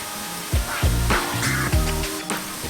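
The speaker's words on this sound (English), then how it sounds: "use the wand to mist all of your tanks" A pump-pressurized bottle mister with a wand sprays water into reptile tanks in short hissing bursts, several sprays in quick succession, close and alone with no voices.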